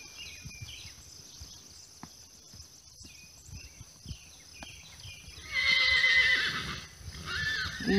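Tied horse neighing, a long loud whinny rising in the latter half after quieter hoof and movement sounds, with a further call at the very end, fairly close outdoors.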